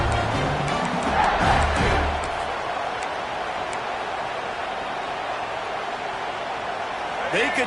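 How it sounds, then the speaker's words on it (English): A football stadium crowd roars after a sack, a broad, loud wash of cheering that swells early, then settles into a sustained crowd din with a commentator talking over it. "This place is scary when the crowd gets involved, and that sack right there is going to light them up."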